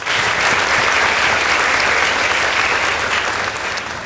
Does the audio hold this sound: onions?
no